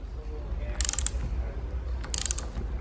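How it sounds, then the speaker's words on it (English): A torque wrench ratchets while tightening roof rack crossbars on a Tesla Model 3, giving two short bursts of rapid, close metallic clicking over a quiet room hum. "So to get that exact tensioning, we've preset our torque wrench"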